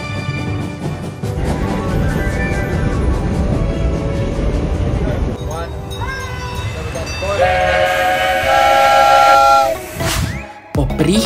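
A steam locomotive puffs and hisses as it crosses suspended wooden bridges through dense rainforest, a steady loud rumble with a shrill whistle rising near the end before a brief drop.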